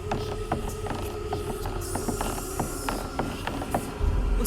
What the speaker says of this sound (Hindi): उसे लकड़ी के खटखट की आवाज सुनाई दी,